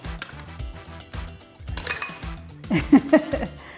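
Metal utensils clink and scrape against a mixing bowl as gluten-free oats are stirred in, giving several sharp, close taps in irregular bursts, loudest toward the end.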